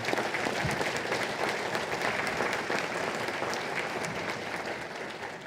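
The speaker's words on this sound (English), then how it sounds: "So if you could please give Ms. Fisher a round of applause" Steady, dense applause from a large crowd at a high school awards night fills the clip, holding loud throughout and easing only slightly at the end.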